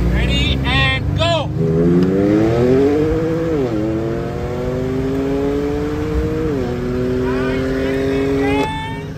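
A Mercedes C63S and a BMW M4 Competition accelerate hard along a backroad, the engine note climbing through gear shifts in loud rising sweeps, dipping between gears before a brief whine at the end.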